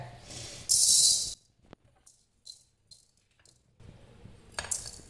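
Two spoons of coriander seeds pour into a dry pan for roasting a mutton chukka spice mix, a loud brief rattling patter, then scattered small clinks and a second rattle later.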